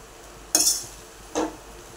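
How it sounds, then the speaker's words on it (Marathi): Schezwan fried rice being stir-fried in a pan: two short, bright spatula scrapes against the metal, a second apart, over a quiet background with no talking. "हे पहा, दोन मिनिटभर परतून घेऊया आपण."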